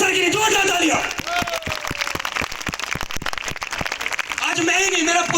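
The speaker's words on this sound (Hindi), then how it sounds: "जोरदार तालियां" An audience at a speech event honoring a teacher breaks into applause, with a burst of clapping between stretches of amplified talk at the start and end.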